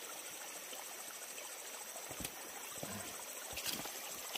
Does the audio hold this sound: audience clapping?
no